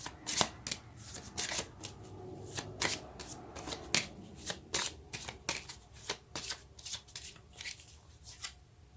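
Tarot cards being shuffled by hand during a reading, a run of crisp riffling flicks and soft slaps repeating unevenly, close and fairly quiet with no talking.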